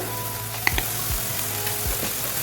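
Chicken pieces frying in a pan for a chicken vegetable pasta, a steady close sizzle with a few sharp clicks and scrapes of stirring.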